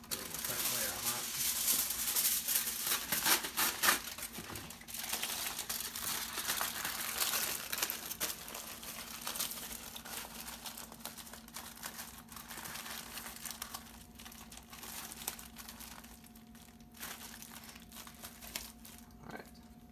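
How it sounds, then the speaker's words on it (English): Aluminum foil is crinkled and folded around a McDonald's Signature Crafted Bacon Smokehouse Burger, close crackling rustles that come in bursts and then taper off to quieter handling, over a faint steady hum. "Got a little tear in the aluminum foil over there. Gonna just put a fresh layer on that."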